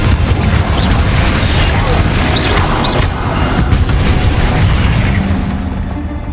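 Explosive spells go off in the Hogwarts Legacy video game, loud booms and crashing bursts over heavy rumbling combat noise that fades slightly toward the end.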